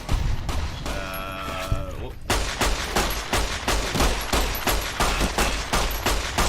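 Rapid, loud gunfire from a hand cannon in the game Fallout New Vegas, a dense volley of repeated shots rattling steadily for several seconds after a brief burst of tonal game sound.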